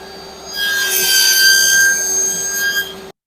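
A wooden piece is cut on a 90-degree crosscut sled at a table saw, with a loud steady whining cut lasting about two and a half seconds before stopping abruptly; no talking.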